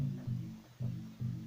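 An amapiano log drum pattern programmed in Caustic 3, deep, round bass hits pulsing in a short syncopated rhythm with a sustained low tone between strikes, fairly quiet.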